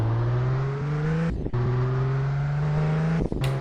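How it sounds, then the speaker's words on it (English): A car engine in a Roblox driving game held at full throttle, droning as a steady loud whine that drops briefly twice at gear shifts before climbing again, with no voices. "I'm full gas right now, full gas."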